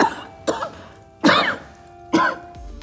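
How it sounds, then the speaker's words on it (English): A person coughs four times in separate harsh bursts spaced about half a second to a second apart, close and loud, the last one rougher like throat clearing. "I don't like the sound of that cough."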